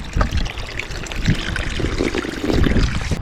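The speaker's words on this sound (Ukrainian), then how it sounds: "По маршруту знайшли от водички, можна тут посьорбити." A thin spring trickles and splashes along a Carpathian mountain trail near Kostrycha in dry weather, a close, continuous babbling dribble with no voices.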